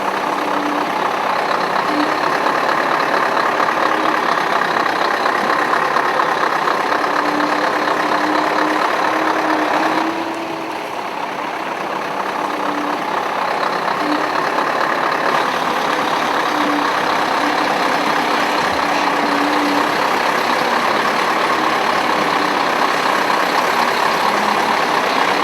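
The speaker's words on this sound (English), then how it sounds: "No one could imagine that a loaded truck could possibly negotiate this forest track successfully" A loaded logging truck grinds along a narrow forest track, its engine a steady loud drone throughout with a brief dip in the middle, no voices.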